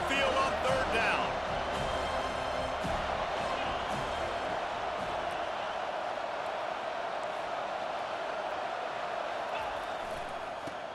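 A home crowd in College Football 25 roars as the defense tries to get off the field on third down. The swell stays broad and steady, loudest at the start and fading slightly toward the end, with commentary underneath.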